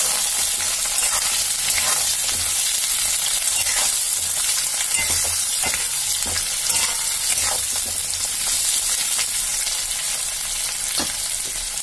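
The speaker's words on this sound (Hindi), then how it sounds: "अभी आलू दे देंगे प्याज के साथ, आलू देके इसको अच्छी तरह फ्राई कर लेंगे" Potatoes and onions fry in a pan with a loud, continuous sizzle, broken by repeated scraping taps of a spoon stirring them.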